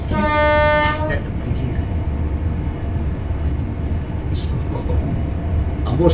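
A train from the game Train Sim World 4 sounds a loud horn blast at the start, then rolls past as a steady low rumble and rattle, and a second faint whistle comes in near the end.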